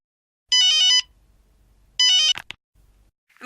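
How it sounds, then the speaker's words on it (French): A telephone ringing: two loud electronic warbling trills, each about half a second, separated by a pause, followed by a click as the handset is picked up. "Au téléphone."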